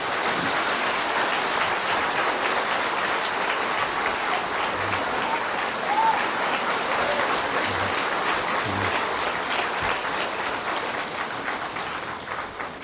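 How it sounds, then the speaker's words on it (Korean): A large audience claps warmly to welcome actor Choi Soo-jong at a church testimony gathering, dense continuous applause like heavy rain filling the room for over ten seconds, steady and loud with no talking. "뜨거운 박수로 환영하겠습니다"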